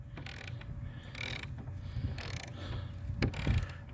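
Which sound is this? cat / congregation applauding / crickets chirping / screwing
screwing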